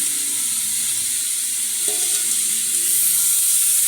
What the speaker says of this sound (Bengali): এবারে আমি বেটে রাখা পোস্ত দিয়ে দিচ্ছি